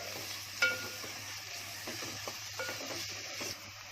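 Chili and a large onion frying in oil for green pea ghugni, a soft continuous sizzle with scattered clicks and scraping from stirring, close but fairly quiet, with no one talking.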